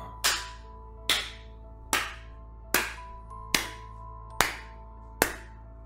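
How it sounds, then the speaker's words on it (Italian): Slow, deliberate claps in an audio drama, meant to come from deep in the woods. There are seven sharp, evenly spaced claps, each with a short ringing tail, over a low steady hum. "Dal folto del bosco venne un suono ritmico. Qualcuno stava applaudendo."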